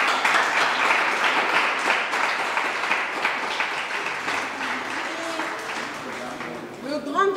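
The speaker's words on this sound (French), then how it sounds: "Est-ce qu'on peut applaudir?" Sustained crowd applause at a school competition final as the second-place school is announced, steady and fairly loud throughout, with voices and a brief shout rising near the end.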